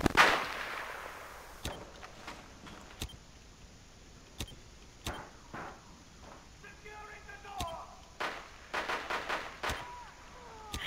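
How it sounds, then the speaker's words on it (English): Gunfire in Rainbow Six Siege during a bomb match on the Consulate map: sharp, scattered shots cracking at irregular intervals, with a quick burst of rapid shots toward the end, over a low game background. "Careful, he's still shooting through."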